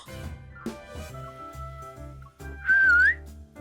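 A character in the Love and Deepspace video game gives a short, clear rising-and-falling whistle, loud and close, over soft background music.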